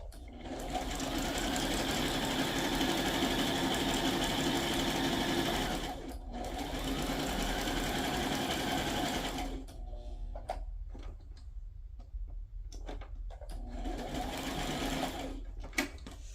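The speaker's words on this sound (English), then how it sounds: "I'm just gonna go ahead and do a zigzag stitch all the way around" A sewing machine running a zigzag stitch around a handmade journal tag, whirring steadily and close in long runs, broken by brief pauses and a few short restarts near the end.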